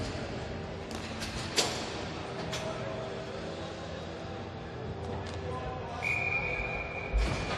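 A referee's whistle at an inline hockey game between Great Britain and Switzerland at the 2017 Masters World Cup gives one sustained shrill blast, set against steady arena ambience with brief knocks and a commentator talking.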